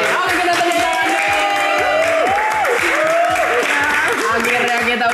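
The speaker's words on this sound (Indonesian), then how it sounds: "Oke, kita tepuk tangan dulu." An Indonesian talk-show audience bursts into loud, sustained clapping, mixed with whoops and cheering voices rising and falling over the continuous patter.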